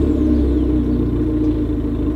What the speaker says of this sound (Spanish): Vamos a girar la llave y así escuchamos este Abarth.